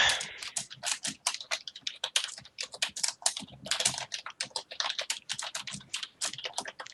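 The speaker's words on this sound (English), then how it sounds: "No more typing." Fast typing on a computer keyboard during the casting of an AD2L league match, a steady patter of crisp key clicks close to the microphone, with no talk.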